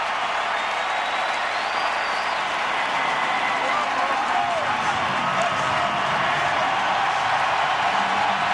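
A packed baseball stadium crowd roars and applauds at a World Series Game 7 between the Rangers and Cardinals as pitcher Carpenter leaves, a dense, sustained wash of cheering and clapping that stays steady and loud throughout.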